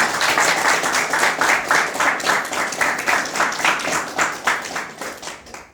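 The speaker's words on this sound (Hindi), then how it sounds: "सब कोई और ताली बजा के" Church congregation clapping hands together in a steady rhythmic beat, around two claps per second, fairly loud and close, gradually fading toward the end.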